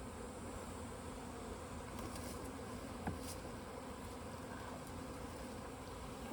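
Honey bees buzzing around an opened hive while the colony is being consolidated into a single deep box before winter, a continuous dense hum of many insects close by, steady and fairly quiet with no talking.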